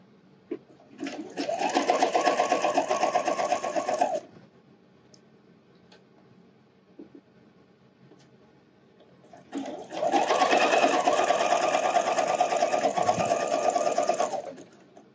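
A sewing machine stitches stretched elastic onto a wireless bra in two close, steady runs of a few seconds each, separated by a quiet pause.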